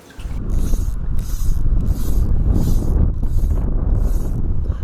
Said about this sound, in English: Hopefully the wind isn't too bad. It is a little windy.